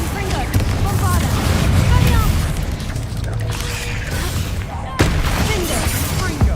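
Confringo and Bombarda spells in Hogwarts Legacy go off as heavy booming blasts over a loud game soundscape, with rumbling eruptions and a sharp burst partway through, while a voice talks over the action.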